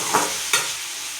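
Chopped onions are sautéed in a pan over a steady sizzle, with two quick spatula scrapes across the pan close by.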